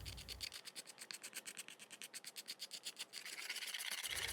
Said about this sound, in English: scrape the surface to make it smooth